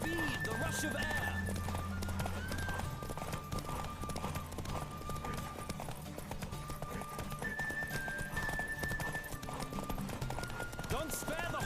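A horse gallops in a race in The Witcher 3, its hooves drumming in a fast steady clip-clop with occasional whinnies over rushing game ambience, while voices speak over it.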